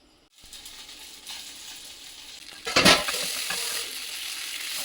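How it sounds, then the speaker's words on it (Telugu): Masala for stuffed brinjal curry (gutti vankaya) fries in a pan. A soft sizzle starts, then swells into a sudden loud hissing burst and settles into a continuous crackle while it is stirred. No one speaks. "ఇది కొద్దిగా వేపు చేసి అందులో కలుపుదాము"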